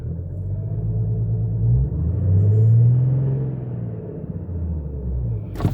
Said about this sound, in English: In the cabin, you can hear that it it revs up really nice.